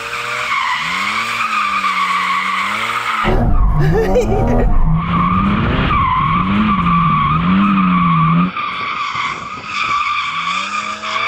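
A Porsche GT4 RS engine screams at high revs, then tires squeal loudly in a long skid as the car slides sideways in a clutch-kick drift, the engine note rising and falling throughout.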